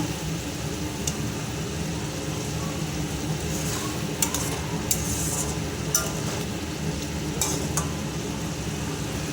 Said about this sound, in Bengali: ডিমগুলো একটু নাড়াচাড়া করে নেব।